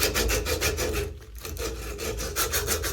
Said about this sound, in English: It's like an 80 grit sandpaper. And just work the old finish off.